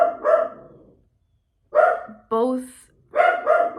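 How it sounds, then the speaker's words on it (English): A dog barks indoors in loud bursts: a double bark, a pause, a brief whine, then another pair of barks, all close and dominant. "I hope you can still hear me over my dog,"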